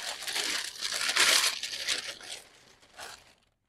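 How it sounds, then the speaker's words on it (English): Noisy paper wrapping is crinkled and pulled away from a new pair of Russell Moccasin Zephyr zip-backed boots, a close, continuous rustle that swells and fades over a few seconds, with no talking. "they are protected behind this paper wrapping,"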